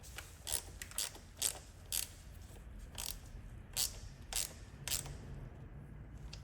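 Parts are being screwed onto a Honda CB 125 Twin motorcycle during a restoration, a series of short, crisp ratcheting clicks at roughly half-second intervals, close and fairly quiet against a low background hum.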